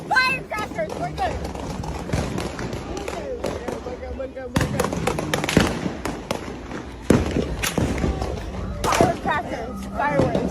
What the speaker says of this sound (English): Firecrackers. Fireworks.